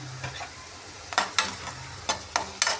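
Cumin seeds, added after mustard seeds, sizzle in hot oil in a pan with a soft, steady fry, broken by several sharp scraping stir strokes close by, and no talking.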